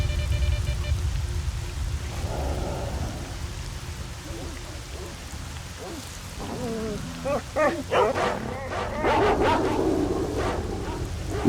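Several dogs bark and yip in a burst during steady rain in the STALKER video game, the barks growing more frequent and closer toward the end over constant rainfall.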